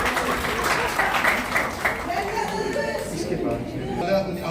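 At a fragrance launch ceremony, an audience applauds with lively clapping mixed with crowd chatter and talking, and the clapping thins out toward the end.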